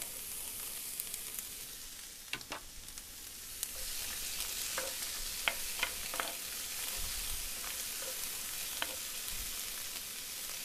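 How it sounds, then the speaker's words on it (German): Chilies and tomatoes sauté in a pan for mole poblano, giving a continuous hissing sizzle broken by occasional clicks and scrapes of stirring, with no voices over it. "Das haben wir jetzt alles richtig schön angeschwitzt."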